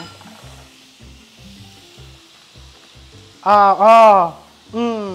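Shawarma meat sizzles and bubbles steadily in a hot pan, a close, continuous frying hiss with light stirring; partway through a person speaks loudly over the cooking.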